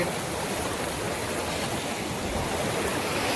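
Steady, unbroken roar of rushing water from the Kalyan Revu waterfalls, broad and even throughout without pauses or voices.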